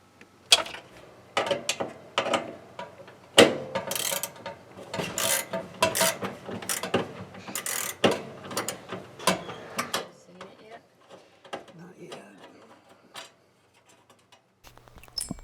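A single sheet metal screw is backed out of the cover over a dryer heating element, giving a run of scraping, ratcheting driver clicks and metallic rasps. The sounds are close and come in bursts, then thin out toward the end.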